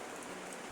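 Steady rain falling on a surface, a continuous dense hiss of drops, fairly close and even in level, with no voices.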